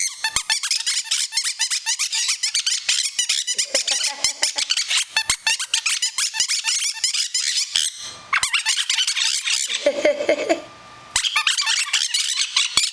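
A parrot imitates a squeaky toy: rapid, high-pitched squeaking repeats almost nonstop, like a squeeze toy being pumped, with a brief pause and a lower squawky sound near the end.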